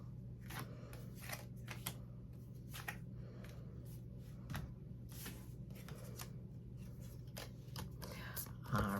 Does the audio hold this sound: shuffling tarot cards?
yes